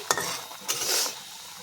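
A spoon stirs bitter gourd (kakrol) curry in a pan, giving two quick scraping strokes against the metal over a faint simmer, close and fairly quiet.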